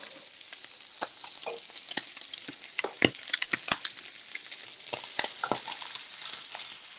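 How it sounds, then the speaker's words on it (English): Bacon frying in a pan, a steady close sizzle with irregular pops and crackles throughout as the fat renders and the edges crisp. "We're starting to see some nice crispy edges on our bacon."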